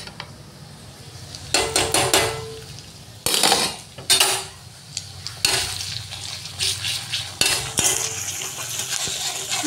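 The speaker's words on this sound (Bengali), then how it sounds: "ভালো করে নাড়িয়ে দেবো আদা রসুনের পেস্ট দিয়ে" Meat frying with ginger garlic paste in a pan, stirred with a metal spoon: repeated loud scraping and clanking strokes against the pan over a low sizzle, close by, with no voices.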